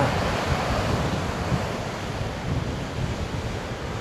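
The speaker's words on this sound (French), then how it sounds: "Mais il est déchaîné l'océan." Rough, stormy ocean surf crashes on a kitesurfing beach under strong wind, a dense, continuous roar with wind buffeting the microphone and no talking.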